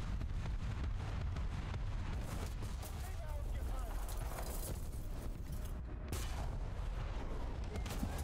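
Heavy gunfire and explosive blasts from a video game, loud and dense, packed into a continuous roar of shots and booms with a brief break, while someone talks over the action.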